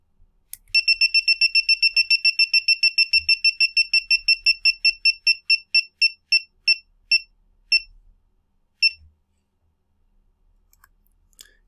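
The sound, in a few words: beeps from homework bouncing-ball display program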